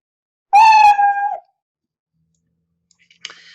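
A single clear cartoonish cat meow from the Scratch programming tool, bright and close, followed by silence and a faint short click near the end.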